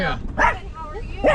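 Small dogs yip and bark in short bursts at a van festival, with people talking close by.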